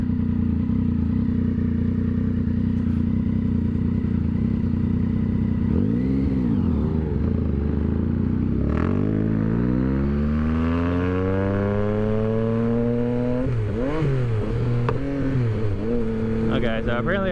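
A 2022 Yamaha XSR 900 motorcycle pulls away after a start in third gear, its engine note rising and sweeping upward in several clear surges, close and steady loud throughout with no talk over it.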